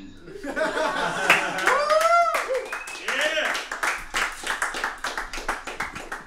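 Clapping at a live open mic comedy show, irregular hand claps mixed with laughter and whoops from a small crowd.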